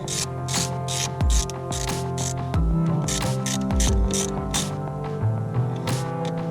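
Ratchet tightening bolts on a 1997–2001 Honda CR-V side mirror, a close, steady run of rapid clicking pawl strokes with short pauses between swings, no talking.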